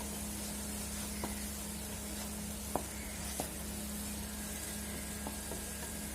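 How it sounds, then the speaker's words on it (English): Garam masala and turmeric sizzle in hot oil with ginger as the pan is stirred for a dal tadka. The hiss is soft and continuous, with a few faint taps from the spoon. "Now I am going to put in my powders, the garam masala and the haldi. Give it a quick stir."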